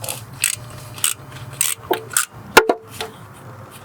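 Quarter-inch drive ratchet snugging bolts on a Honda 2.4L K24 engine, with a series of short clicking bursts and light metallic taps close up, steady and unhurried.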